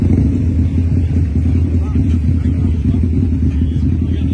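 A grey metallic Porsche idles at Place Vauban, its engine giving a steady low rumble that runs throughout under someone speaking close by.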